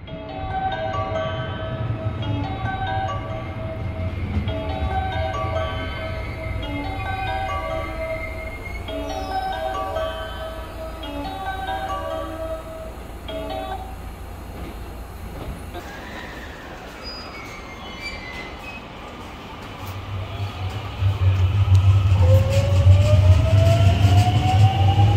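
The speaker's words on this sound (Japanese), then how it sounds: "本日の山陽本線 JR 神戸線下りの最終列車で、神戸駅から発車する最後の列車です" The last down JR Kobe Line local train for Nishi-Akashi pulls out of Kobe Station after midnight, with a steady platform hum, a rising motor whine and a loud rolling rumble building near the end.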